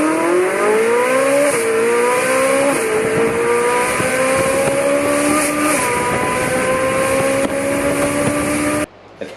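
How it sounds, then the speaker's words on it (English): A Ferrari 458 with a valved performance exhaust revs loudly and close, its high, sharp engine note climbing in steps through rising pulls before cutting off abruptly at the end. "Got a little Ferrari here."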